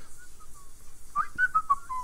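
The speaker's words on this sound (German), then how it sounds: "Die pfeift, okay, ein pfeifender Sim" A character in the video game The Sims 4 whistles a short, bright melody of a few rising and falling notes, clear and alone against quiet background.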